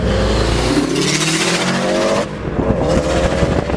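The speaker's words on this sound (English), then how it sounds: "That flutter's the best though" A tuned 2005 Subaru STI accelerating hard, its engine roaring loud and close with a turbo flutter, shifting to a choppier rumble partway through, and no talking.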